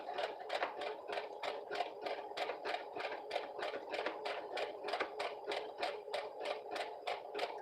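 A sewing machine stitches a fabric pouch in a thick, oddly woven runner fabric, a steady rapid train of mechanical pulses, quiet and even throughout.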